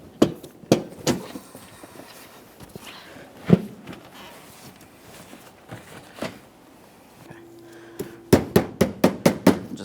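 On a 2017-2024 GMC Acadia, a radiator is tapped into place with sharp, scattered knocks followed by a quick run of about seven evenly spaced taps, close and loud against quiet rustling.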